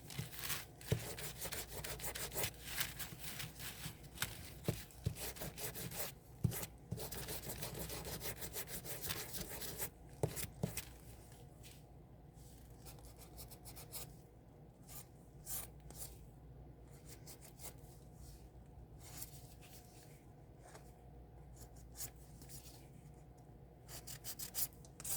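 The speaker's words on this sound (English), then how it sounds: "Let me sand that down right now before I get it stuck and I break the lid" Sanding down the edge of a resin mold lid by hand produces a steady close-up scratchy rubbing, loud and continuous through the first ten seconds, then lighter intermittent strokes with pauses.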